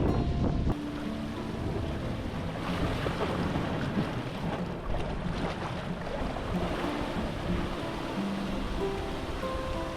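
Ocean waves roll and surge over a rocky wave-cut platform at Sorrento Ocean Beach, with a continuous rushing wash and wind buffeting the microphone, and no one speaking.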